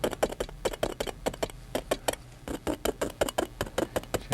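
A palette knife taps oil paint onto a canvas to suggest small tree trunks in a landscape painting, rapid light clicks in quick irregular bursts, close and quiet, with no talk.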